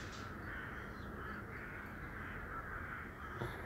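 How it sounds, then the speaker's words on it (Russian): Crows caw faintly and at a distance over a steady outdoor background hiss, their calls blending into a continuous murmur with no speech. "Ворон до хрена."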